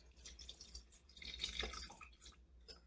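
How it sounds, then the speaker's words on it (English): A wet egg mixture is poured over cornmeal for butter pecan cornbread, giving a faint, soft splashing and trickling that swells briefly in the middle, with no talking. "We're pouring that over that cornmeal."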